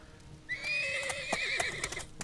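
A horse in the video game Scum gives a loud, drawn-out neigh that quavers and breaks into a trembling whinny. Sharp hoof clip-clops and knocks sound alongside it against a quiet background.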